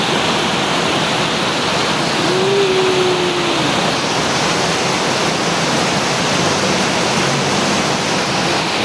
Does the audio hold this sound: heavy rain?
yes